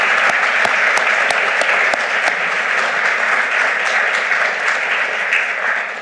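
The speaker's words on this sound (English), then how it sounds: "please join me with a round of applause" Conference audience applauding, a loud, even wash of many hands clapping that carries steadily throughout, with a few sharp individual claps standing out near the start.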